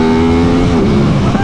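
A 2021 Aprilia RS660 sportsbike pulls hard with the throttle open, its engine note a loud, close, rising roar over a brief stretch, with no talking.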